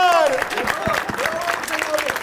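Scattered audience applause at a stand-up comedy show as a comedian takes the stage, with a voice calling out at the start and individual claps continuing underneath.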